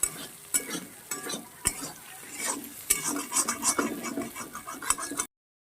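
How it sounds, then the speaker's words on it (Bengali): Egg frying in a pan while a utensil stirs and scrapes it in quick irregular strokes, sizzling underneath, ending abruptly in silence. "আর একটু হালকা ভাজতে হবে ডিমটা বেশি কড়া করে ভাজলে বেশি ভালো লাগে না"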